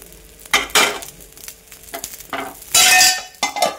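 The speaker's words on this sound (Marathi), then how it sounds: "पहिला मी इथे छोटासा डोसा टाकून घेते" Small dosa batter sizzles on a hot pan in a home kitchen, a crackling hiss rising in bursts, the loudest near the end, with clinks of utensils in between.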